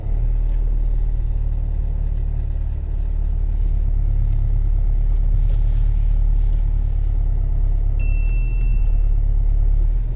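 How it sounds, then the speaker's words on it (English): A learner driver's car reverses slowly into a parallel parking space between two cars on a UK street, a steady low engine rumble throughout with a few brief high-pitched chirps near the end. "we're going to use this vehicle in front of you to reverse parallel park within 2 car spaces without touching the curb"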